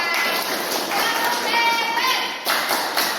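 Classroom applause for a student group after their presentation, dense patter of small hands clapping with children's voices mixed in, steady and close throughout.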